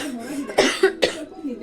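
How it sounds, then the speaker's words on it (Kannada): Three sharp coughs from one person, close and loud, spaced across a short stretch, with brief speech-like voice around them. "ಕೆಮ್ಮು ಬರತೈತಿ ಜಾಸ್ತಿ"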